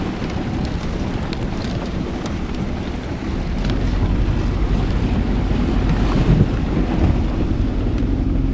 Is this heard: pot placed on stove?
no